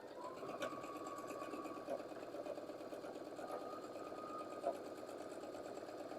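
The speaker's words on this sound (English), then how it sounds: "we're just going to sew a 1/4 inch away from that line." A sewing machine runs steadily, stitching a quarter-inch seam on half square triangle fabric pieces, a continuous close, even mechanical whir with a rapid needle rhythm and occasional faint clicks.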